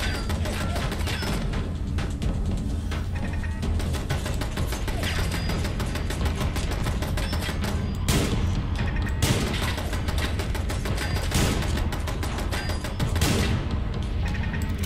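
A gun firing in the video game Fallout London: a rapid, steady run of shots throughout, with a few louder, sharper reports standing out, fairly loud and sustained.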